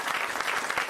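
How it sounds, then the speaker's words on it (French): Brief burst of audience applause in a French radio-show studio, many hands clapping together in a dense, steady wash for under a second, fairly loud and with no speech. "Et je vous demande de les applaudir"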